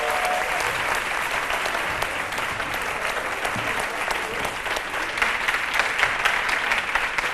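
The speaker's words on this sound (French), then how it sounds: "on l'applaudit très fort" Studio audience applauding a dancer on a French TV set, a dense, steady wash of clapping that holds at full strength for the whole stretch without pause.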